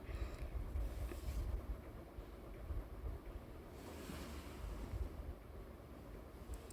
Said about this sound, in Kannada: ಕುದೀತಾ ಇದೆ ಚೆನ್ನಾಗಿ.